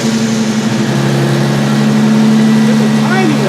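Steady idle of a car engine breathing through a freshly fitted Megan catback exhaust, a low continuous drone with a deep hum throughout, close and moderately loud with no speech.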